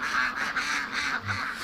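Ducks at an indoor shelter for homeless ducks give a run of loud, harsh, honking quacks, four or five calls close together over a steady din with no talk.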